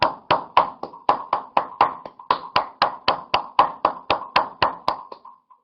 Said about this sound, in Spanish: A los aplausos.